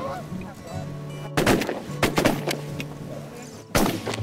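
Shotguns fire at a goose during a hunt, with several sharp, loud blasts spread across the clip over ongoing honking of geese nearby.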